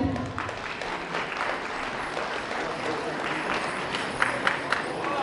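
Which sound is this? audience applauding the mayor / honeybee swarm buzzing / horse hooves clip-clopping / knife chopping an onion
audience applauding the mayor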